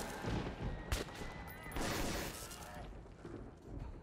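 Gunfire from the video game Metro 2033 Redux during a fight with creatures: dense bursts of shots and impacts that swell and fade over a few seconds, with brief talk mixed in.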